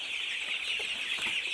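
Chickens clucking in a poultry shed with scattered litter at night, a few close clucks over a steady loud airy hiss throughout, with no talking.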